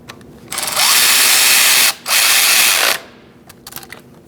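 Power ratchet tightening a knock sensor bolt on a 2008-2014 Mercedes-Benz C300 3.0L V6 engine, two loud close whirring bursts split by a brief pause, then faint clicks.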